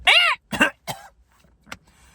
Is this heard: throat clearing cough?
yes